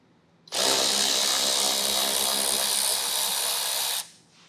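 Power tool whirring steadily for about three and a half seconds while driving out small 8mm screws from the lower underbody panel of a 2024 Jeep Grand Cherokee, loud and close with no talk.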